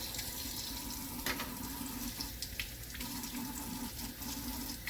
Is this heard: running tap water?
yes